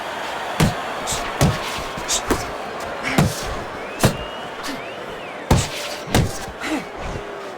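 Boxing punches land in the video game Fight Night Champion, an exhibition bout between Bernard Hopkins and Roy Jones Jr: sharp thudding impacts come irregularly, about a dozen over several seconds, over crowd noise and commentary.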